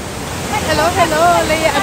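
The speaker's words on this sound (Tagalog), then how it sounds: "Ito na nga, narating na namin ang Raid Waterfall sa Skagway." A waterfall in Skagway, Alaska, pours with a loud, close, broadband rush of falling water while a voice speaks over it.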